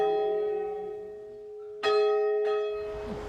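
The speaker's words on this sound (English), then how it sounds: "and we'll start with the ringing of the bell." A church bell rings out before the Angelus prayer, a long resonant toll decaying slowly, then two more loud strikes about half a second apart, each leaving a ringing hum, with no talk.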